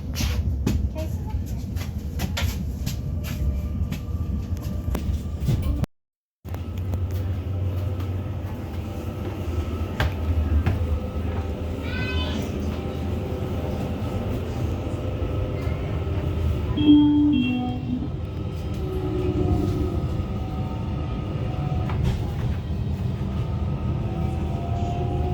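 Passenger train running on the line toward Newcastle Interchange, heard from inside as a steady low rumble and rolling hum with brief gaps and squeals, close and continuous throughout.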